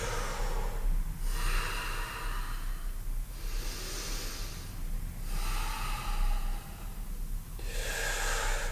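Three deep, audible breath cycles during a forward-leaning workout stretch, each a long airy inhale and exhale, close to the mic over a steady low background hum, with no talking.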